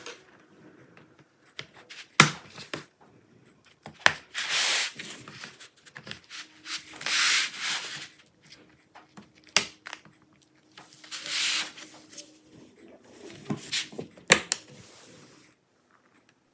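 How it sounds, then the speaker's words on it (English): A thin plastic pick pries at the clips of an ASUS TUF Gaming A16 laptop's bottom cover, giving scattered sharp snaps and clicks between scraping rustles, close and fairly quiet, with no speech. "With a thin plastic pick, release the clips from here in both directions."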